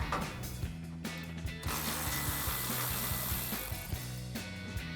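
Steady ratcheting clicks from a hand ratchet loosening a 10mm bolt on the brake line bracket of a Jeep Gladiator JT during a suspension lift install, close and continuous, with no talking.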